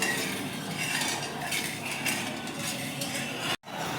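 Sugar syrup for Mysore pak being stirred in a pan with cardamom powder, a steady close scraping and clinking of a spoon against metal, continuous with a brief drop near the end.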